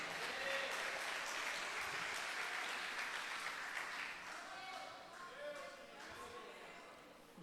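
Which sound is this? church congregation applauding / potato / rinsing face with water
church congregation applauding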